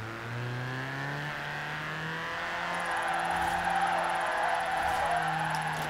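A rear-wheel-drive pocket-rocket car drifts in Forza Horizon 4, its engine holding a loud, close, steady drone that climbs slowly in pitch as it revs, with a thin high whine joining partway through.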